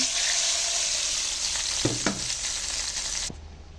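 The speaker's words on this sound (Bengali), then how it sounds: "এবার আমি আমার পেঁয়াজের বাগারটা আমি লাউর মধ্যে দিয়ে দিচ্ছি।" Fried onion tempering tipped into a bottle gourd and prawn curry gives a loud, steady close sizzle, with a few sharp pan clicks near the end before the frying suddenly drops away quieter.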